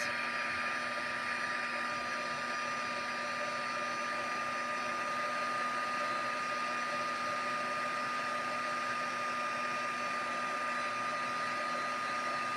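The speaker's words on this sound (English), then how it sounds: "I'm going to use the heat tool to heat up the embossing powder" A handheld craft heat tool blows steadily while melting embossing powder, a constant airy whir with a faint electric whine that holds unchanged from start to finish, close and alone.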